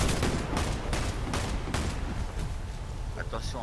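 Rapid turret gunfire from a video game rattles in close, loud bursts with sharp repeated shots, mixed under ongoing talk between players.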